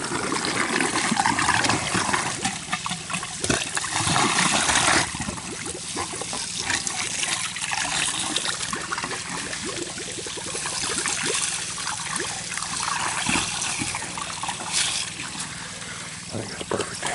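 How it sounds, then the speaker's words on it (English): Water runs out of a pipe into a tilapia tank, a continuous close trickle and splash that swirls toward a drain, with scattered splatters over a steady rushing bed. "the water will come out there and go around this way and then into the drain over there"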